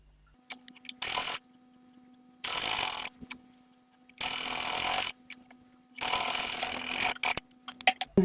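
A sewing machine stitches a folded fabric neckline in four short, even bursts of rapid whirring, close and fairly loud, separated by quiet pauses and small clicks.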